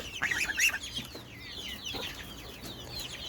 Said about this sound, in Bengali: আর এইখানে আমি পোলট্রি মুরগি ছেড়ে দিয়েছি